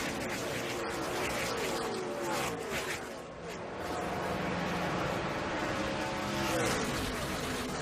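NASCAR Nationwide Series race cars accelerate together off the green flag at the 2011 Subway Jalapeno 250, a loud, dense, continuous engine roar with rising pitch, heard under an announcer's voice.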